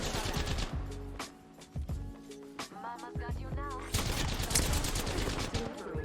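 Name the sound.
gunfire in Apex Legends video game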